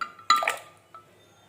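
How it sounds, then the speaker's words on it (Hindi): Ice cubes dropped into a jug of milk for a fruit milkshake, giving a few bright clinks and knocks in quick succession, close and clear in a quiet kitchen. "थोड़ी सी हम आइस डाल देते हैं"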